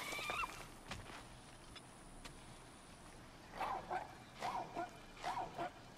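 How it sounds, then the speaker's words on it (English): Dog in the video game God of War giving a few short yips and whimpering barks, fairly faint, in two clusters after quieter game sounds. "Is Atreus gonna be able to talk to the dog?"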